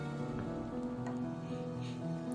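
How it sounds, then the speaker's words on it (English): Rain driven by wind lashes against the wooden walls of a house in a video game, a steady, hissing patter layered over a low tonal hum. "The wooden walls of the house groan under the assault of the rain, driven harder by the wind"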